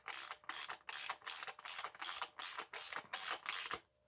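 A ratchet with a 24 mm flat socket turns clockwise on the top cap of a RockShox SID Ultimate fork during a service, giving ten evenly spaced, close ratcheting bursts in a steady rhythm.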